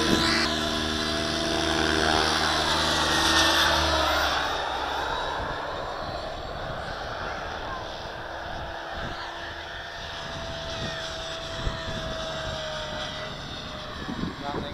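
A Trex 700 RC helicopter fitted with an 800MX motor hovers nearby, its high turbine-like whine and rotor drone loud at first, then easing down in pitch as it lands, with a few voices speaking.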